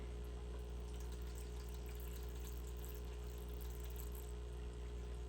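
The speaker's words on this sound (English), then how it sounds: "Try to siphon out most of it." Water is siphoned out of a home fish tank through a tube, producing a steady, continuous rushing and gurgling flow with a low pump-like hum, close and alone without talking.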